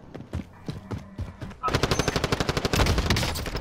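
Rapid bursts of automatic gunfire from Call of Duty Warzone break out and run continuously after a quieter opening of scattered shots, loud and close, with occasional talk nearby.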